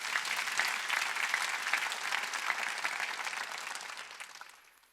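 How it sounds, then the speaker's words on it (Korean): A church congregation at a Sunday worship gathering in an arena hall claps together in a dense, even wave of applause that holds steady, then fades out toward the end. "박수치라고 했어."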